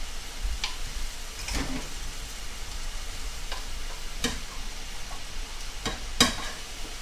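Thin-cut pork sizzling on a pan, a steady soft fry hiss broken by several sharp scraping taps of a utensil against the pan.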